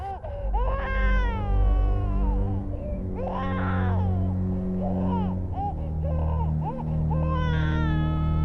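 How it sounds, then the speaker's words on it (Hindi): A baby cries loudly and continuously in a tense horror-drama setting, with wailing harmonic cries that rise and fall over a low droning background throughout. "ये बच्चे की रोने की आवाज।"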